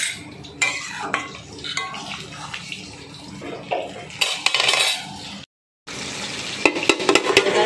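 Chopped eggplant stirred in a cooking pan, with scraping utensil clatter and soft sizzling in uneven bursts, a brief silent gap, then more clinks and scrapes up close.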